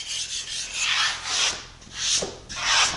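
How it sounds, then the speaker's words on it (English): A hide razor scraper rasps over wood, scraping off cured CA glue in several short, close strokes that come in an uneven rhythm. "I'll just accelerate that so I can scrape it off."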